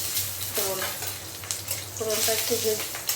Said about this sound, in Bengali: সাদা জিরে, শুকনো লঙ্কা আর তেজপাতা ফোড়নে দিয়ে দিলাম।